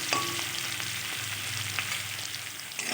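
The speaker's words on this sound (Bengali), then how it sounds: "একটু ভালোভাবে নেড়ে চেড়ে ভেজে নেব।" Raw green banana pieces stir-frying over medium-low gas flame, a steady close sizzle with scraping stirs throughout, no voices.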